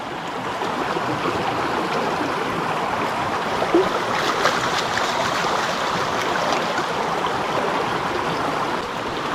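Water sloshes gravel around in a gold pan during a Christmas prospecting outing in Wicklow, making a continuous close rushing, swirling wash with faint grit movement and no speech.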